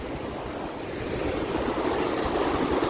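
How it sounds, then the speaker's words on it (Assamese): Steady, loud wind rushes past the microphone with a broad roaring hiss, buffeting continuously throughout with no voices. "বতাহ দি আছে"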